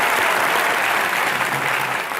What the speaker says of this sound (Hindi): इसके लिए तालियां बनती हैं